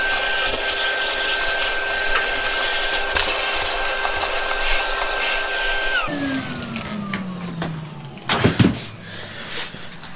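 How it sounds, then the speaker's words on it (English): A vacuum cleaner runs steadily, hoovering out debris after electrical work, a loud continuous whine that drops in pitch as it powers down partway through, followed by knocks and handling clatter. "that's all hoovered out now"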